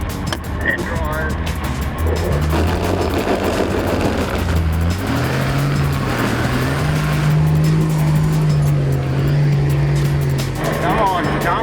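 A 4WD vehicle on Max Tracks on a sandy hill near Forster revs hard and strains loudly. The engine pitch climbs and holds throughout, with voices talking over it.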